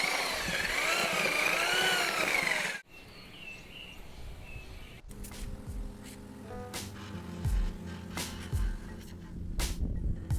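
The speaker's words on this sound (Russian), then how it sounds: "О, да, дрель трусится," An electric drill, used while finishing a house facade, runs in loud bursts with a rising and falling whine at the start, then drops to quieter intermittent mechanical noise.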